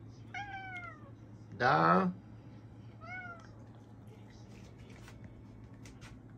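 Cats meow before breakfast: two faint, separate meows, with a person's brief voice between them in a quiet room.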